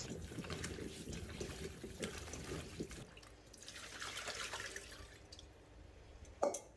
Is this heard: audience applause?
no